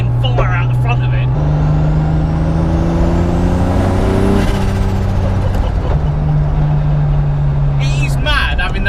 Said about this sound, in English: It is mad having that 2J sound coming out of the front of a Subaru